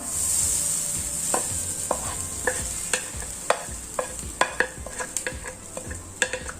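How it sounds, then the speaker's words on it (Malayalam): A spatula scrapes and taps against a pan in irregular strokes while grated coconut dry roasts with a faint steady sizzle underneath. "നമുക്ക് നന്നായി ഒന്ന് വറുത്തെടുക്കാം"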